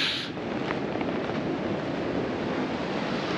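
Steady surf washing onto a beach near Esperance, a broad continuous roar of breaking waves heavily mixed with wind buffeting the microphone, loud and unbroken throughout.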